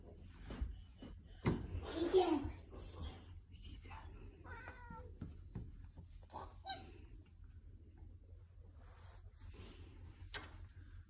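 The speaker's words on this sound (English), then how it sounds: "Meow, Kitty, go meow." A cat lets out a few short meows up close, mixed with faint rustling and soft voices in a quiet room.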